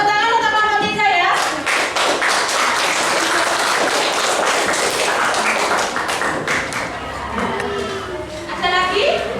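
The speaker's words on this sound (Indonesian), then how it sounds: "tepuk tangan untuk kelompok 3 ya" A classroom of students claps together for a presenting group, a dense, loud burst of hand claps lasting several seconds, with a teacher's voice heard before and after.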